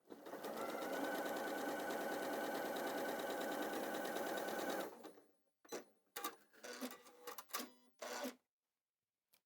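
A sewing machine runs steadily for about five seconds, stitching a fabric seam between orange and grey pieces, then stops and gives way to short bursts of rustling and handling.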